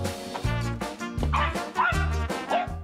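A dog barks repeatedly in sharp, yipping bursts of varying pitch, close and loud, with no talk over it.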